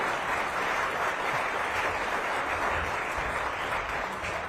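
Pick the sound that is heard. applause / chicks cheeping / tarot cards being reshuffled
applause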